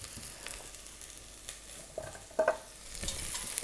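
Knobs of butter sizzling in a pan with dark, caramelised cauliflower for a venison canapé, a soft steady frying hiss with a few louder crackles and stirring scrapes, no talk.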